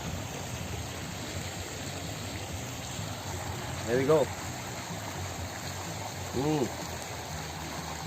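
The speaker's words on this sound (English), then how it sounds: "I want to hear this voice of water, you know, while I'm eating." Steady flowing water by a lake at a lakeside cafe in Sunder Nursery makes a soft, continuous rushing wash, with a person briefly speaking over it.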